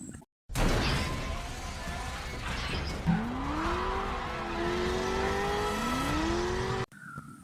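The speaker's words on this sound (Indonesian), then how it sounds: "mengerem dadakan yang membuat mobil tim SWAT terjungkal berguling-guling" A SWAT car brakes suddenly and rolls over in a film action scene: a loud, sustained roar of engine and grinding metal, with a rising tire squeal partway through, then an abrupt cut.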